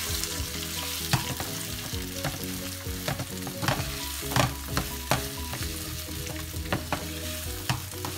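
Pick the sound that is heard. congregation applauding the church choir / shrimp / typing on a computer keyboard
shrimp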